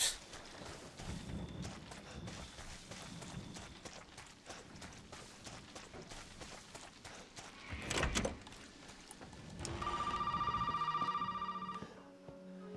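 A phone rings in Resident Evil 7: Biohazard, running on a mobile phone, as a sustained electronic ringtone with steady stacked tones near the end, loud and alone after a stretch of busy game noise and a brief thud.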